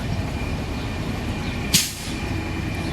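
A school bus idles nearby on a New York street, a steady low engine rumble broken by one sharp, brief air-brake hiss.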